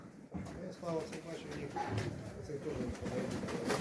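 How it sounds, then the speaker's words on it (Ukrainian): Soft pigeon cooing mixed into a steady outdoor background, with people talking over it throughout. "Отакі у Володі голуби"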